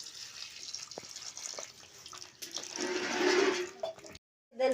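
Water poured into a drumstick vegetable curry made from farm-picked pods, a close splashing pour that builds toward the end before cutting off abruptly, following a few faint knocks.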